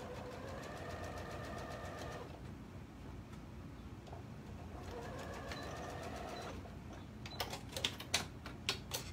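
A sewing machine runs a straight stitch in two steady bursts of rapid mechanical whirring and knocking, followed by a few sharper clicks and thumps near the end, with no talk.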